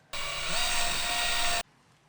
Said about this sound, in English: Handing you the drill.